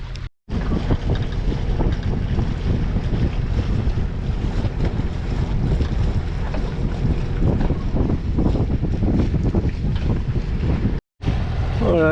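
A sailboat motoring home on engine power at sea off the French coast, a steady loud rumble mixed with heavy wind buffeting the microphone and water wash, continuous for the whole stretch with one brief dropout near the end.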